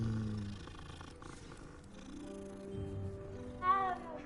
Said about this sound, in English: You see a cat, you stop to pet the cat.